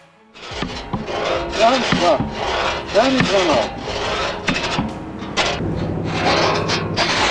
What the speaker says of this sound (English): Once everything is ready, the sawing process truly begins.